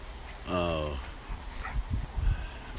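A dog in the woods gives a single drawn-out bark-like whine near the start, then goes quiet. Faint rustling and indistinct voice sounds follow, with no further clear calls.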